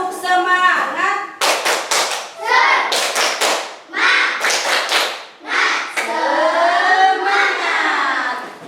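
A classroom of children performs a rhythmic clapping chant, bursts of loud group claps alternating with voices chanting together in a lively call-and-response pattern.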